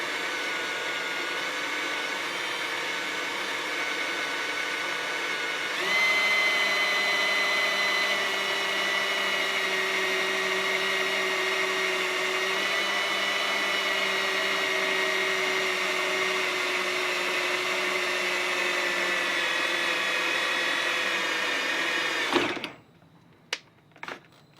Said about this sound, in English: so I'm going to drill right here.